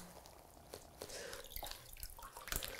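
Water drips and trickles from a few newspaper sheets as they are dipped into and lifted out of a half-filled basin, with soft irregular splashes and drops at close range and no talking.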